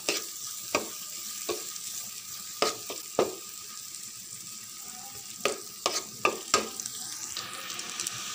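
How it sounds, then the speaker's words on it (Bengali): Onions fry in a pan until browned, a faint steady sizzle broken by a dozen or so sharp scrapes and knocks of a spatula stirring against the pan, close up and irregular, with no talking. "এবার নেড়ে চেড়ে বাদামি বাদামি করে এর সাথে মিলিয়ে দেব।"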